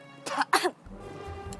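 Two sharp coughs from a person who has just choked, close and loud in a quiet indoor scene, followed by a low steady room hum.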